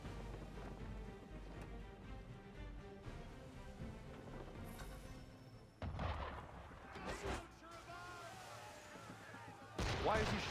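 Ship cannon fire in the Assassin's Creed 3 video game, heavy booming blasts over a rumbling game soundscape with voices talking, the loudest bursts near the middle and at the end.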